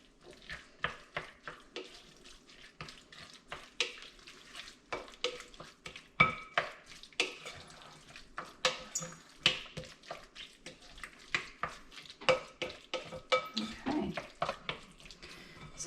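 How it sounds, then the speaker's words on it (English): Keto spring roll filling mixture being stirred in a pan, with repeated scraping, wet clattering strokes in a steady irregular rhythm, close and fairly loud, with a faint sizzle beneath. "And we give that a good stirring."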